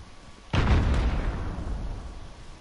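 A grenade goes off in the Modern Warfare game, a single loud, deep blast with a sharp onset that rumbles and decays over the following two seconds.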